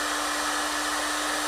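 A heat gun blows continuously while shrinking a foil capsule onto a wine bottle, a steady close airy roar with a constant electric hum running through the whole brief moment.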